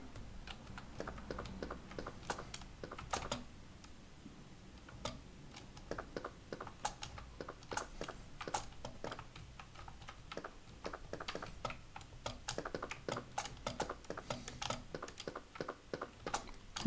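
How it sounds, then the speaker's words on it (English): A loud computer keyboard is typed on while playing a PC game, giving quick, uneven runs of close, crisp key clicks with short pauses between bursts. "You will be able to hear me clickety-clacketing on the keyboard because it's quite a loud"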